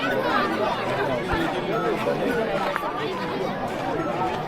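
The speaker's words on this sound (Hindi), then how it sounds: "कितनी भीड़ है यार," A dense crowd chatters at a busy sunset viewpoint, many overlapping voices forming a steady, close babble that fills the whole stretch without pause.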